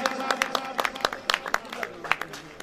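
Scattered audience clapping at a mushaira poetry gathering during an Urs celebration for Baba Fazal Din Chishti, irregular hand claps with a voice speaking over them.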